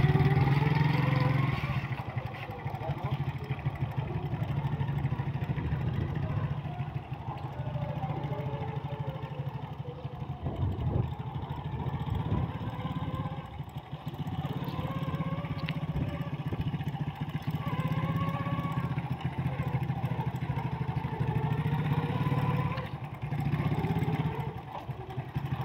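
Motorcycle engine running steadily after being started during a riding lesson, a continuous low rumble with small fluctuations and occasional clatter, close by and without speech.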